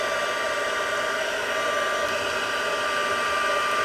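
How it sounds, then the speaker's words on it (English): A heat embossing tool blows a steady, loud, continuous hum as it melts heat and stick powder on a craft project. "then you're going to come through with your heat tool"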